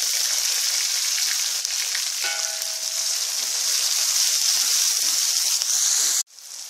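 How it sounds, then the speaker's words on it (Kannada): Curry leaves and onion sizzling in hot oil after mustard seeds crackle, a loud, steady frying hiss running without a break until it suddenly drops near the end. "ಸಾಸಿವೆ ಚಕ್ಕಪುಟ ಅಂದ ತಕ್ಷಣ ಕರಿಬೇವನ್ನ ಹಾಕ್ತಾ ಇದ್ದೀನಿ, ಈರುಳ್ಳಿನೂ ಹಾಕ್ತಾ ಇದ್ದೀನಿ ಇದಕ್ಕೆ."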